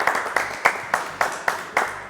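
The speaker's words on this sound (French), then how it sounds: "on l'applaudit Bruno" Studio audience applause on a French television show, a steady burst of clapping with regular sharp peaks about every quarter second, close and fairly loud, with no talk over it.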